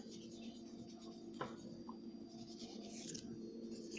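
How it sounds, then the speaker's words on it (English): A board being erased, faint soft rubbing and scratchy strokes heard close by in a quiet room with a low background hum and no talking. "Let's erase that real quick."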